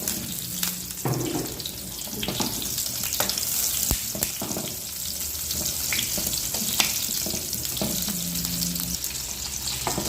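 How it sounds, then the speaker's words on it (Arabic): Chopped onions frying in a spoonful of ghee, a steady broadband sizzle running through the whole stretch with occasional stirring clicks and a faint low hum, no talking. "هلا بنضيف معلقة سمنة، هلا بنضيف البصل،"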